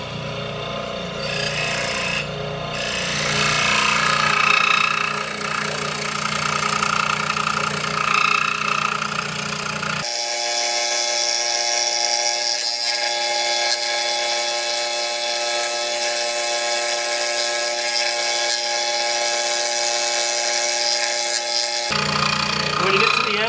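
A Maglev scroll saw cuts through wood with a steady buzzing whine, changing pitch partway through as the cut continues, then resuming a rougher tone near the end; a workshop voice is briefly present.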